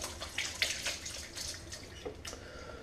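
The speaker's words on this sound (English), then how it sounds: "So I'm going to start to wash up." Tap water runs into a kitchen sink during washing up, with soft splashing and a few clinks and drips rising above a quiet, steady flow.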